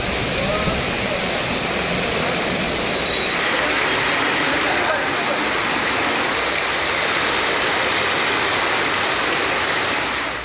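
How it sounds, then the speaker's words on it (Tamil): Heavy rain driven by strong wind in the Chidambaram area of Cuddalore district pours down as a loud, unbroken hissing roar that stays dense and steady throughout. "பலத்த காற்றுடன் கனமழை பெய்தது"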